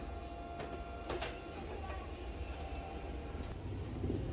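A Xerox photocopier runs continuously while printing copies, a steady mechanical rumble and whir with periodic clunks of paper feeding, close and even throughout.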